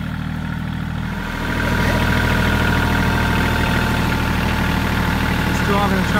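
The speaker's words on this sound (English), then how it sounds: "We're driving a tractor, so." A tractor engine runs steadily on a dirt track being built for racing, a loud continuous idle-like rumble close to the microphone that swells a little after the first second and holds constant.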